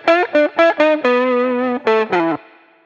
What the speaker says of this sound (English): let's start with 10 dB of distortion